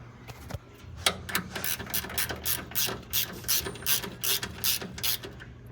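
A wrench ratchets on a nut while brake lines are removed from a 1962 Ford Falcon engine bay, a run of quick close clicking bursts, fairly faint, with light handling noise.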